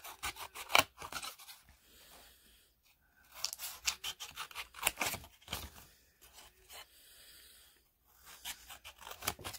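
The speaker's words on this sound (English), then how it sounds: "I'm going to take this piece of paper and I'm going to cut out a triangle for a" Scissors cut a triangle out of paper in bursts of close, crisp snipping and rustling, separated by short quiet gaps.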